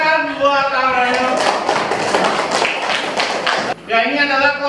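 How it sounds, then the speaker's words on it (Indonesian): Classroom applause for a student named Amel during a teaching session: a burst of many hands clapping for a little over two seconds, set between stretches of a teacher talking before and after. "tepuk tangan buat Amel"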